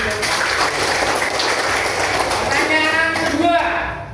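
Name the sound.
classroom applause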